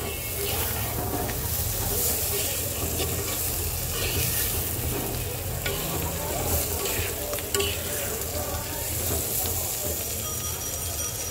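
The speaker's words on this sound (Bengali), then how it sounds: "এবার আলুটা দিয়ে দেওয়ার পরে মশলাটার সাথে মিক্স করে দিলাম" Fried small potatoes sautéed with spice masala in a pan, a dense continuous sizzle and hiss with stirring scrapes throughout, close and loud.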